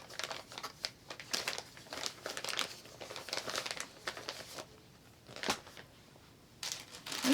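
Yarn balls pushed back into a crinkly bag, producing close, irregular rustling and crumpling bursts of plastic, with short quiet gaps between handling.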